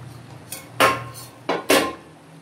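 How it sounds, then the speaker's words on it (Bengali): Koi fish pieces drop into boiling curry in a pot, making four sharp clattering hits against the pot in quick succession, close and fairly loud. "ঝোলটা ফুটে উঠে গেছে, এখন আমি মাছগুলো দিয়ে দেব"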